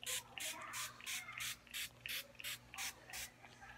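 A spray bottle mists water onto hair in about a dozen quick, even hissing squirts, close and fairly loud, with a faint steady hum underneath and no talking.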